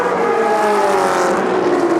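Race cars, including a Ferrari, power up the Goodwood hill climb with a loud, sustained engine roar that climbs steadily in pitch as they accelerate hard, close and continuous with no talk.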